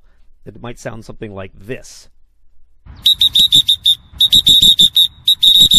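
Roller derby referees blow their whistles out of sync, a ragged string of about a dozen sharp, shrill tweets that overlap and stutter in uneven rhythm, loud and close, coming right after someone speaks briefly.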